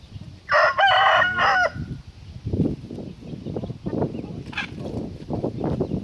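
A rooster crows once, loud and close, followed by softer clucking and low farmyard chatter from other fowl.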